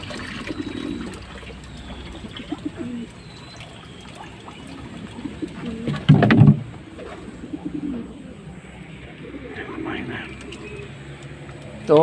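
Birds coo softly and repeatedly close by, with people talking over them, faint trickling water, and a brief louder burst of cooing midway.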